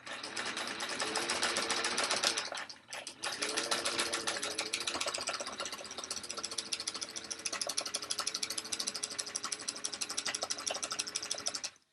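A sewing machine stitches a tote bag strap in a fast, steady mechanical chatter, running continuously with one brief pause before resuming, close and without talk.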